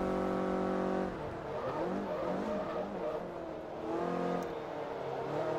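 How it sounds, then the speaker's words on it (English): A Toyota Yaris S racing in Forza Motorsport 3, its engine droning steadily and shifting pitch as it accelerates, with other car engines blending in, loud and continuous with no talk. "The little Yaris is pulling away."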